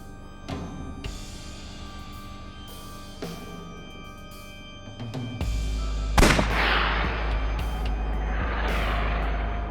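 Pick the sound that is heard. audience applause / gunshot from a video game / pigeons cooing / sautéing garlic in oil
gunshot from a video game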